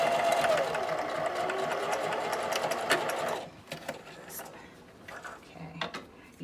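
A sewing machine runs steadily for about three seconds, stitching a 5/8 seam through fabric for a tube dress, then stops, leaving quieter handling clicks and faint rustling.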